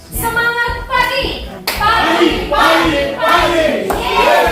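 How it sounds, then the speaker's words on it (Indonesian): A group claps a rhythmic spirit clap together with shouted cheers at a teacher workshop gathering, loud and close, with several sharp bursts of clapping and voices calling out between them. "Oke, tepuk semangat."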